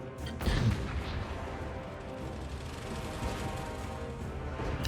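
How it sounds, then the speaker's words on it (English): Great Cannon artillery fires in the Total War Warhammer 2 battle game, one heavy boom near the start followed by a dense, continuous wash of battlefield rumble and distant gunfire. "Great Cannon's laying down some hurt on the spider."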